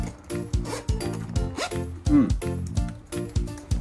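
A zipper is worked up and down on a Schott 618 leather motorcycle jacket in size 42, giving quick rasping bursts close to the mic while someone talks over it.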